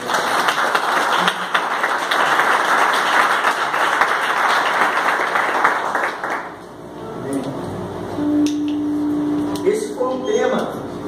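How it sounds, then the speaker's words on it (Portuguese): A church congregation applauds after a scripture reading at an evening service, with dense clapping for about six seconds before it fades into a quieter room with scattered sounds and a faint tone. "Vamos aplaudir a palavra de Deus."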